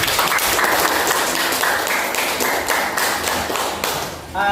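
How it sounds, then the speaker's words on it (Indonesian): Classroom students clap together, loud close-up applause with distinct hand slaps and thumps that carries for several seconds before tapering off. "Tepuk tangan dulu Pak Aura."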